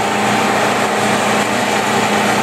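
A Rong Fu RF-19V variable speed bench drill press running at over 2,000 RPM, giving a steady, continuous motor whine and hum at close range, even and unbroken throughout with no talking.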